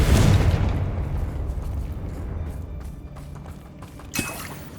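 A Confringo blasting spell explodes in the Hogwarts Legacy game, hitting as a loud boom at the start that fades into a rumbling tail, followed by a smaller pop near the end.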